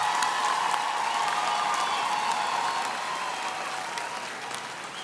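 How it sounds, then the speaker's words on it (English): Graduation ceremony audience applauds at a university campus, steady dense clapping from a large crowd that slowly tapers over several seconds. "Please let us give another round of applause to graduates from the law faculty."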